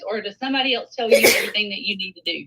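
A single sneeze bursts out midway through a woman's speech, loud and close, with talking continuing before and after it.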